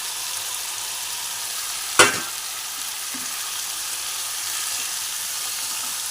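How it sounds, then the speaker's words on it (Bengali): Fried cauliflower sautéed with potatoes and spices in oil sizzles steadily, with a single sharp clatter of a spatula near the start and soft stirring scrapes after. "এইবার আমি ভেজে রাখা ফুলকপিগুলো দিয়ে ভালো করে কষাবো।"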